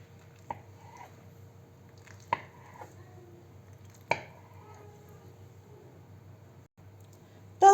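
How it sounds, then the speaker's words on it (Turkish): A knife slices through ready-made yufka pastry sheets, cutting them into triangles for a börek, giving a few soft, widely spaced taps against a board over a quiet kitchen hum. "Kestiğim yufkamı üçgen biçiminde kesiyorum arkadaşlar."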